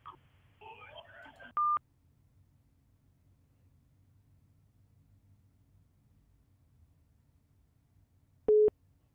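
On a radio call-in line, a telephone sounds a short burst of dialing tones and a steady tone early on, then after a long near-silence a second loud tone, with brief noise at the start.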